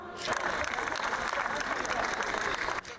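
A crowd outside a cathedral applauds continuously as a funeral procession departs, sustained clapping that fades slightly at the end, with a faint voice speaking over it.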